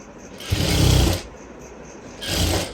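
Two bursts of an electric sewing machine running a blouse side seam toward the armhole curve, a longer run then a shorter one, close and steady with quiet between.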